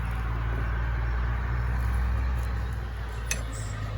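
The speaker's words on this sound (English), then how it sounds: "we're at the farm, so you're gonna hear trucks, all kinds of noises" Steady low engine rumble from trucks passing on a farm road, a continuous near-to-mid-distance drone with a brief faint higher click near the end.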